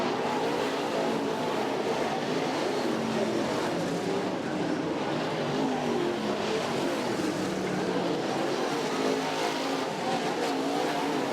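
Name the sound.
modified race cars racing at East Bay Raceway Park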